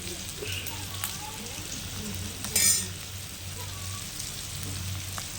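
Dried fish fries steadily in hot oil, a continuous close crackle and sizzle with one brief sharper clatter midway.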